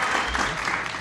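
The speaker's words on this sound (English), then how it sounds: "Greg is applauding for himself" A game show studio audience applauds in a brief, steady burst of clapping, fairly loud and continuous, with a faint low murmur underneath.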